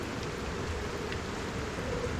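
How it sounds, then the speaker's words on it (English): Rain in the Running Scared game falls as a steady, even hiss of drops on surfaces, moderately loud and unbroken throughout, with no voices over it. "It's raining, so we don't need to water the crops."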